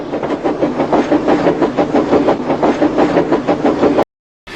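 A cartoon steam engine puffs along while pulling its train of cars away from Ellsbridge, with steady rhythmic chuffs and clickety-clack over the rails, loud and continuous before cutting off abruptly.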